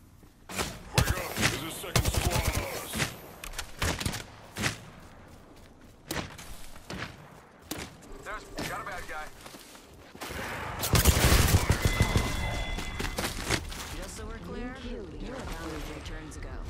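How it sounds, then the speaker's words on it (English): Gunfire in the game Apex Legends, a dense stream of shots and impacts in quick bursts, intermittent at first and then heavier near the end, with in-game voice callouts over it. "Shot fired."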